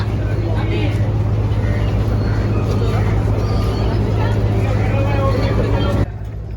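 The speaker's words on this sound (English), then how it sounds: "The ferry has docked now, and it's time to get off." A passenger ferry docks at Alibag jetty on the Maharashtra coast, its engine a loud, steady low drone with water and crowd babble throughout, cutting down sharply near the end.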